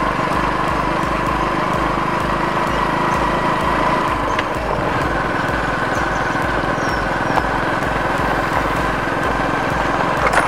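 A two-wheeler engine idles steadily on homemade ethanol fuel, a continuous loud low putter with a faint rhythmic knock running throughout, no talk over it.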